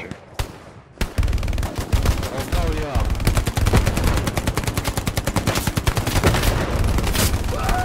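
Rapid automatic gunfire from a World War II shooter game, Hell Let Loose, rattling in dense bursts with booming shots and a faint voice underneath.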